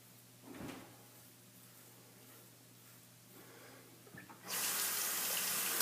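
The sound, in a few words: rinsing a lathered razor under running tap water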